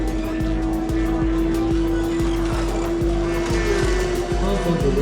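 Slot cars race around a track at a 16th birthday, a steady electric motor whine with a rhythmic clatter as the cars cycle past, continuous and fairly loud throughout.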